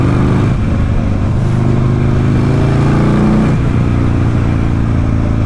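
A motorcycle converted to chain drive cruises in fourth gear at around 40 to 50 mph, its engine a loud, steady drone mixed with wind rush, without pauses or talking.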